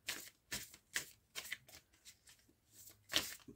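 Tarot cards being shuffled before a reading, a series of soft, close riffling bursts in an irregular rhythm, fairly quiet and heard alone with no speech.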